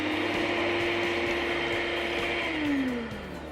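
Chefman stand mixer on its lowest speed beating cranberry muffin batter, a steady close motor whir with a rhythmic beater knock, slowing slightly near the end.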